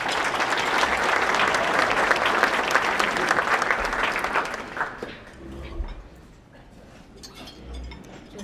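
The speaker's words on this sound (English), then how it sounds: "Please join me in giving her a round of applause." An audience at a college dean's breakfast applauds loudly for several seconds, then the clapping thins out and fades, leaving scattered claps and a little murmuring.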